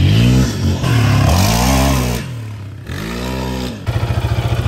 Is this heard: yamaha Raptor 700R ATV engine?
yes